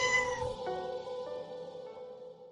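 A cat meows loudly and close, a single drawn-out, wavering cry that tails off over a couple of seconds, heard alone with no talk.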